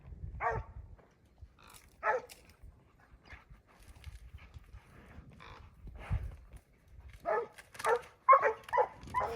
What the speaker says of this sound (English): I think the dogs are trying to get them stopped right here.